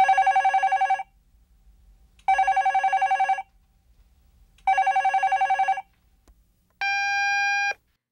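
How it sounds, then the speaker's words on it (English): Telephone bell ringing in three loud, close bursts separated by pauses, followed by a short electronic tone, with no talking. "Just then, a phone began to ring, catching him off guard."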